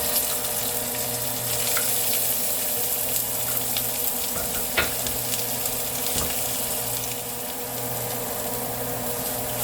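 Onions fry in a pan after garam masala goes in, giving a steady watery sizzle that stays fairly even throughout, with a few faint clicks and scrapes of a utensil.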